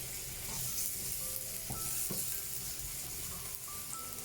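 Black chickpeas (channa) roast in a pan with a soft, constant crackling sizzle and a few light scraping stirs, heard alone without voices.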